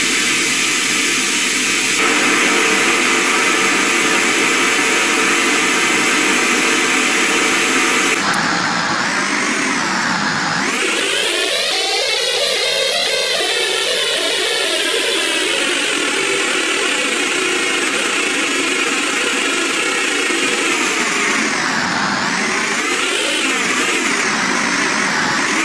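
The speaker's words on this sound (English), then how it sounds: "I'm annoyed at white noise right now" A loud, continuous broadband hiss fills the whole stretch, shifting in tone partway through with a sweeping, whooshing character.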